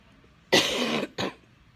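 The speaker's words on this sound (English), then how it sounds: "I really need a cough bad." Woman with lupus coughing twice close to the microphone, a longer harsh cough followed by a shorter one, in an otherwise quiet room.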